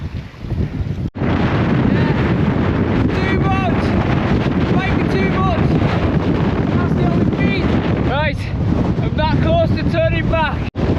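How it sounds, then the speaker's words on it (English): Strong gusting storm wind buffets the microphone in a loud, continuous roar with surging gusts, while someone talks over it in places. "Yes, I think those gusts are big."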